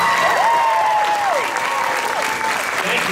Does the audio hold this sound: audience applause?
yes